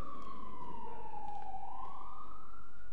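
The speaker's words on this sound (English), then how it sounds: "Those sirens always get me," A siren wails steadily, its pitch sliding slowly down and then rising again, fairly distant over a low rumbling background.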